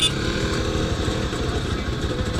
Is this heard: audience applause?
no